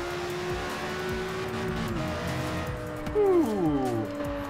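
Lamborghini Gallardo Superleggera engine in Forza Horizon 3, revving steadily with a rising pitch sweep near the end, under faint background talk.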